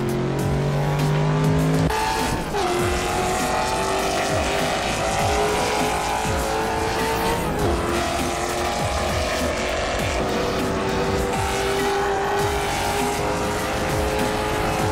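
A racing car engine in the Assetto Corsa driving game roars loudly and continuously, with a gear shift early on, sustained high revs and hints of tire noise across the lap, and nobody talks.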